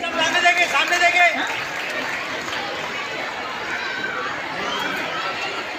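Loud crowd applause in a hall at a school prize-giving ceremony at the Arts Council in Karachi, strongest at first then fading into murmuring chatter and a faint announcer's voice.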